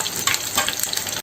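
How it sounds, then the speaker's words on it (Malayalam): Curry leaves fry in hot oil in a pan, giving a close, dense crackling sizzle with little pops throughout, no voices. "ഇനി കറിവേപ്പിലയാണ് ഞാൻ വറുക്കാൻ പോണത്"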